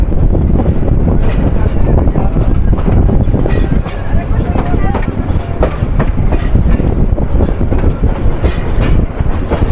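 The Tista Express rolls along the rails through a long curve near Jamalpur Town junction, a loud, continuous rumble with rapid clickety-clack wheel beats and wind buffeting, heard close from on board.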